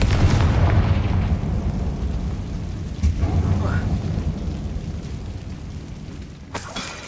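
A Confringo blast spell in Hogwarts Legacy, cast inside a tomb, erupts as a loud, sustained rumbling boom with crackling debris, a few sharp impacts following before it tapers off.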